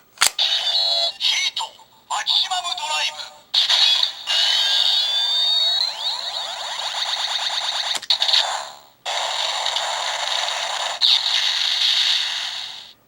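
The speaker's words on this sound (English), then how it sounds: "I like the flamethrower sound there" A Kamen Rider Double Driver toy plays its Heat flamethrower effect, a bright electronic whooshing and warbling sound in several loud bursts separated by short gaps.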